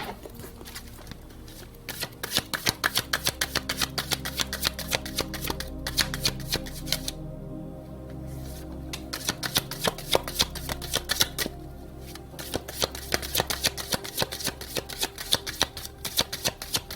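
A deck of cards is shuffled by hand for a tarot-style reading, producing rapid close riffling bursts that repeat with short pauses between them and no speech.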